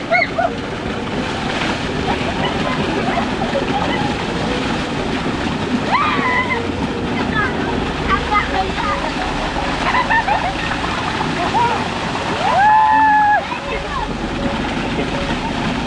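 Water splashes and sloshes at a farm bore well as people bathe, a steady wet churning with intermittent splashes under frequent nearby voices and outdoor background noise.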